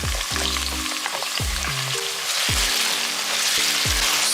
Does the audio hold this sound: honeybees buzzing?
no